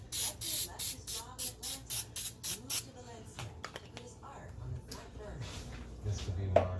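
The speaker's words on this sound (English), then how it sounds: "A little tiny bit of this Pam baking flour spray. And just spray it a little bit." Short bursts of Pam baking flour cooking spray hiss into a copper pan, about ten quick even puffs in a row, fairly close and crisp, followed by quieter handling clatter and faint kitchen noise.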